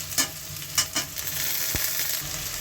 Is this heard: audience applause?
no